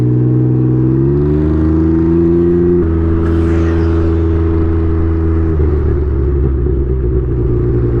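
Can-Am Ryker three-wheel motorcycle engine at about quarter throttle, a loud close steady drone that climbs in pitch early, then shifts to lower, rougher running partway through.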